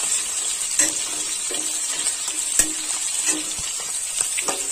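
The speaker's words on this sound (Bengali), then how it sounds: "পেঁয়াজ কুচি, পেঁয়াজ লাল করে ভেজে নেব।" Chopped onions fry in oil in a wok with a steady hiss of sizzling, broken by occasional sharp clinks and scrapes of stirring, close and loud, with no speech.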